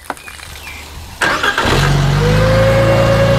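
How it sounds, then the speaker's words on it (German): Engine-driven pump starts up and runs under load, an abrupt engine start followed by a steady loud mechanical drone with a rising whine, close by with no talking. "Jetzt werde ich mal die Pumpe antreiben und einfach mehr fordern, als ich bekomme."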